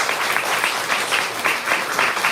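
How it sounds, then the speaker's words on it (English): Audience applause at a human rights conference keynote in Florence, a steady dense wash of clapping from a large room that swells in soft waves without pause. "Let us give a big clap for the welcoming Professor Shaw."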